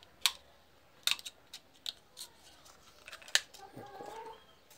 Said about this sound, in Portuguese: agora vamos recortar a peça. Eu, com esse pedacinho de estilete,